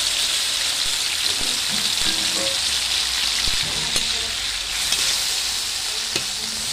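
Pork and tomato sizzle steadily in a hot pan as they are stirred, a continuous close frying hiss with occasional scrapes and clicks of the utensil.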